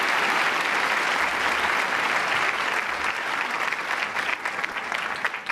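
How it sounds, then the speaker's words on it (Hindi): Sustained audience applause fills a college function hall as the education minister is welcomed. The dense clapping is loud and steady throughout, with a faint murmur of the crowd under it. "तो आप सभी तालियां बजाकर उनका स्वागत कीजिए।"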